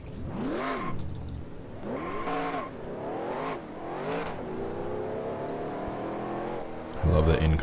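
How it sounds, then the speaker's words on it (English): Race car engine inside the cockpit in NASCAR Racing 2003, revving up and down through repeated rising and falling sweeps, loud and close, with someone talking over it. "I love the in-car engine sounds."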